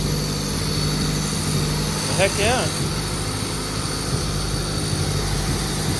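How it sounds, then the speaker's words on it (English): A turbocharged Honda Integra engine idles with a steady low drone on the bench after valve adjustment, some loose parts vibrating, while a man briefly exclaims over it. "Idling now, it sounds good."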